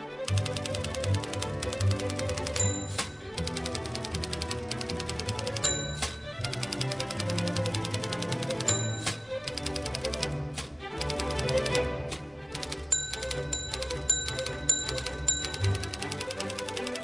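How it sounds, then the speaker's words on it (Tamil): Manual typewriter in Tamil Nadu clacking away in fast irregular bursts of keystrokes, with periodic bell dings and carriage-return pauses, loud and close with no voices. "இதுதான் டைப்ரைட்டர்."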